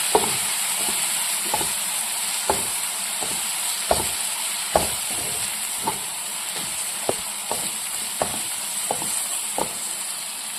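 Kashmiri chili powder, coriander powder and garam masala being stirred in a hot pan for prawn biryani masala, a steady sizzle broken by regular spatula scrapes and taps.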